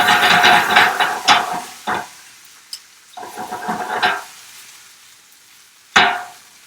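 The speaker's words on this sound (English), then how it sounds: "Just kind of saute it around." Steak sautés in a hot pan with garlic, kosher salt, black pepper and lemon juice, heard as loud close bursts of sizzling and scraping broken by short quiet gaps and a sharp final hiss.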